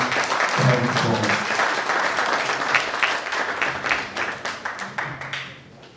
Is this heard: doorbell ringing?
no